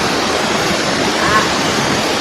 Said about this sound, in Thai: นี่เป็นน้ำตกชั้นที่สองนะครับ